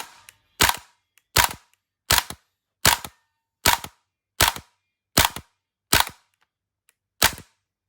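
A Krytac Kriss Vector gas blowback airsoft rifle, spring-modded, fires nine sharp, loud single shots at a steady pace of roughly one every three quarters of a second, with a slightly longer gap before the last.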